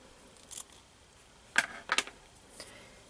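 Scissors snip a crochet yarn tail in a few quick, crisp, close-up cuts, mostly in a pair near the middle, with near silence around them.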